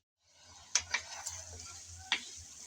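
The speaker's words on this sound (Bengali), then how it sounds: "পরপর কয়েকবার এসে আমি ভালোভাবে নেড়ে চেড়ে আলুটাকে কষিয়ে নিলাম" New potatoes being stirred and fried in a pan, with soft sizzling under a few sharp spoon scrapes and clicks against the pan, close and fairly quiet.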